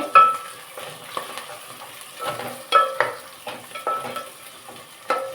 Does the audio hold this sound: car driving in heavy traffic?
no